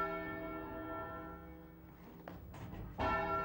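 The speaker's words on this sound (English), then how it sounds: "we rang just the tenor bell on its own" A single deep tenor church bell tolls on its own in a tower, its long sustained hum decaying slowly, followed by faint knocks and a second louder strike near the end.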